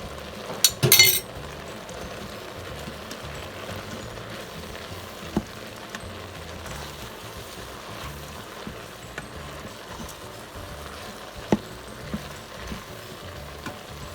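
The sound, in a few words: sauteing vegetables with chili powder for veggie chili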